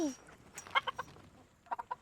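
Hens cluck in a series of short, bright calls near a henhouse where a large rooster sits low, with a quick burst in the middle and another run of clucks at the end over quiet farmyard background.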